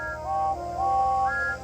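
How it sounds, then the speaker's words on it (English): Toy engines from a Thomas the Tank Engine fireworks display scene give loud, sustained whistle blasts with several overlapping tones that rise and hold, up close and alone. "sounded their whistles as loudly as they could"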